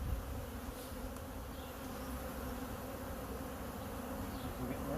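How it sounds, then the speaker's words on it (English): Honey bees buzz around an open hive as field bees return, a dense, steady hum of many wings close by, continuous and even with no voices. "You can see all the field bees are coming back."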